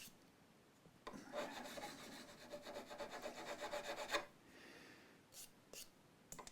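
A leveling beam rubs back and forth across the frets of an Epiphone ES339 guitar, a steady close rasping scrape of about three seconds in rhythmic strokes, followed by a few faint clicks.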